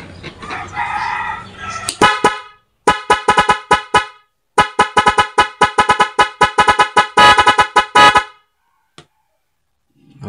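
A NHAY 3+ Pro music double contact horn set to mode 4 blares loud and close in a rapid pulsed melody of short bursts, with brief gaps and one faint blip before it falls silent.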